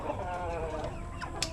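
A brooding hen clucks in a low, steady, throaty murmur, close and continuous with a brief sharper note near the end, no talking.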